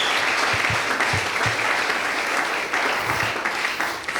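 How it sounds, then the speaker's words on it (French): Church congregation clapping steadily throughout, loud and continuous, with faint voices mixed into the applause. "Applaudissez le Seigneur."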